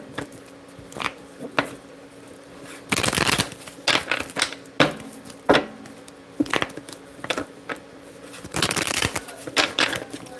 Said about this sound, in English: These cards all fell.